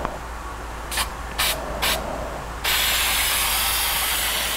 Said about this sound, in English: spray across it so that the point of beginning the burst of paint doesn't occur on what you're painting